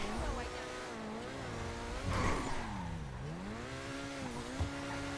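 An Overflod Tyrant supercar in GTA Online revs and drives off, its engine note rising and falling in wavering sweeps with a brief tire-like burst midway, steady and fairly loud throughout.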